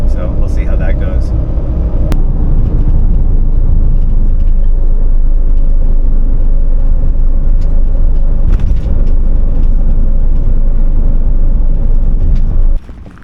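Loud, steady engine and road rumble from inside a car following a Ford F250 bumpside pickup on the highway, a continuous heavy drone with a brief knock near the start and the noise dropping away at the very end.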